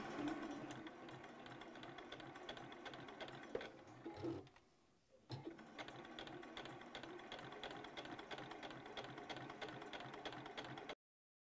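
A sewing machine runs steadily, stitching around the edge of a fabric circle for a jewelry organizer pouch, its motor whirring with a rapid needle rhythm, briefly pausing midway before resuming at an even pace.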